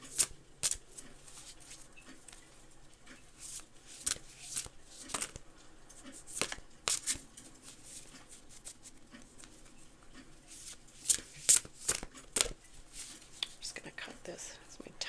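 A Lunar Nomad Oracle deck is shuffled by hand in bursts of crisp card riffles and slaps between quieter gaps, close and intermittent, with soft whispery talk underneath.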